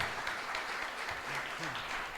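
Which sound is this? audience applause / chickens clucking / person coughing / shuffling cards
audience applause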